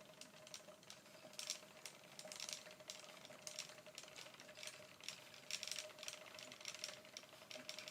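A spinning wheel turns with a faint, rhythmic wooden clacking, a quick repeating rattle over a quiet steady background hum.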